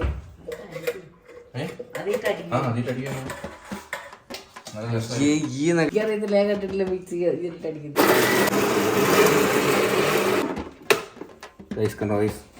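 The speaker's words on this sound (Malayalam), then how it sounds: "അപ്പൊ നമുക്ക് നമ്മുടെ മിക്സിക്കകത്തോട്ട് ഇട്ട് നല്ല അടിച്ച് നല്ല പേസ്റ്റ് ആക്കി എടുക്കണം." A mixer grinder blends boneless chicken into a paste for momos in a loud, roaring burst of a couple of seconds. A person talks before and after, with small clattering handling sounds.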